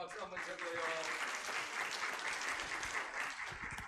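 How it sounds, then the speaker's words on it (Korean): Applause from a congregation during a church worship service, a steady dense patter of many hands filling the room, with some voices mixed in throughout. "다시 한번 박수 한번 쳐줘요."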